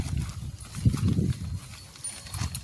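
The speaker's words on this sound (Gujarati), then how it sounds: "તો આરામથી ડુંગર ઉપરલી ઉતરી રહ્યા છે ગાય માતાઓ" A village herd of cows walks down a hillside on the way home, their hooves giving soft, uneven low thuds and clops at moderate distance with no talking.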